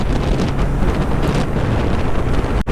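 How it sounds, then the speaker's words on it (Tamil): Strong wind roaring over the microphone while riding a Kawasaki Z900 motorcycle, a dense, continuous close rush with no break, ending in a brief sharp click. "கொஞ்சம் காற்று ஜாஸ்தியாக இருக்குது"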